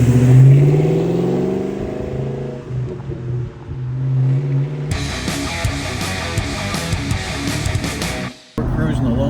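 A stock Ford Mustang Bullitt accelerates from inside the cabin. Its engine drone climbs steadily, then swells into a louder, rougher roar before cutting off abruptly near the end.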